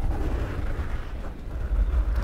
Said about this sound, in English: it's kind of cool just to sort of like sit down and watch the fireworks